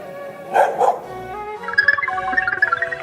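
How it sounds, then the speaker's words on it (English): A dog barks in a quick series of short, rhythmic yaps, fairly close, following a brief louder burst of sound. "Is that another dog?"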